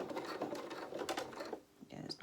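A sewing machine stitching a doll's apron dress, giving short quick bursts of needle chatter with a brief pause, faint and close.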